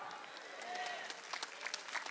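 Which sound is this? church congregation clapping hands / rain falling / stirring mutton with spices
church congregation clapping hands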